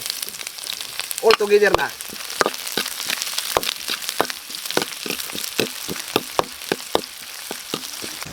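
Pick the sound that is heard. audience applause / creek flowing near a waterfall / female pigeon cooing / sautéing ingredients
sautéing ingredients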